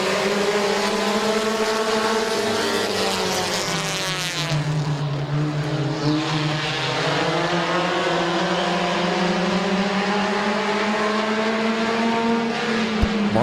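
A pack of compact race cars roars around the Midvale Speedway track in 2017, engines droning loudly and continuously as their pitch rises and falls through the laps, with no voices heard.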